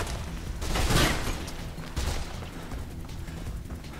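Gunfire in the Mirror's Edge video game, a burst of loud shots and booming impacts near one second, then further scattered cracks over a steady game background.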